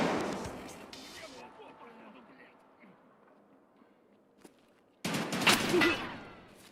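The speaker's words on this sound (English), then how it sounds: "I think I'm gonna be smart and toss a nade down there." In the Escape from Tarkov video game, a tossed grenade goes off with a sudden loud, sharp explosive blast after a quiet stretch of faint ambient noise and distant gunfire-like pops.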